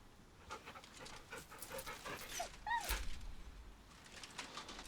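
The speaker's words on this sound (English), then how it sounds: "The dog whimpers nervously, as if to urge you on." Scratch, a dog in Baldur's Gate 3, pants softly in quick rhythmic breaths, then gives a brief high whimpering whine, faint and close against a quiet background.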